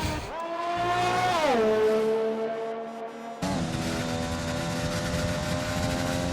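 A race car in an rFactor-style racing video game, Austria round, screams through the gears with a rising, falling engine whine, a downshift dip and an abrupt cut to another steady high-revving tone; close and loud, no talk.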